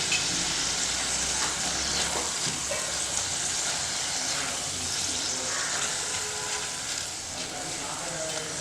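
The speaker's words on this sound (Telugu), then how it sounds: "ఇదంతా మనం ఒకసారి బాగా మిక్స్ చేసేసుకుందాము." Garam masala, turmeric, chilli and coriander powder fry in a pan for a paneer methi dish, giving a continuous broad sizzle with soft stirring noises throughout and no clear talk.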